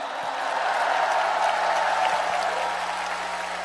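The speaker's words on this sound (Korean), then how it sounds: "우리 두 분 후보님께 뜨거운 격려의 박수를 부탁드립니다." A large crowd at a party convention applauds the candidates, a steady, dense wash of clapping that holds evenly for several seconds with no voices on top.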